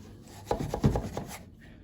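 A weaving loom's wooden batten and weft being pushed through the shed make a short burst of quick rhythmic rubbing and scraping strokes, close and fairly quiet, then stop.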